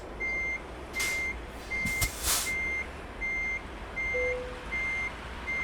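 A truck in a driving simulator game backs up to a steady, evenly spaced series of electronic reversing beeps, with brief hissing bursts of air brakes and mechanical clunks partway through.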